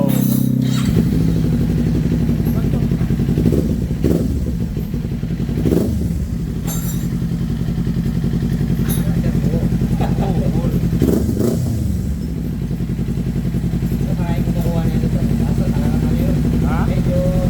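A 2024 Kawasaki Ninja 400 with an Akrapovic M1 exhaust rumbles close by at a steady low idle, with a few short rev blips, while people talk over it.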